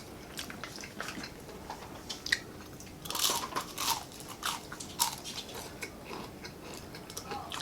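Crunchy Filipino silog breakfast food being bitten and chewed up close, a series of sharp crisp crunches clustered around the middle, with softer chewing between them and no talk.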